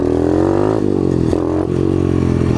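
Apollo RFZ pit bike with a swapped carburetor, engine revving hard and steady in second gear, loud and close with a brief dip in pitch partway through as the throttle eases and picks back up.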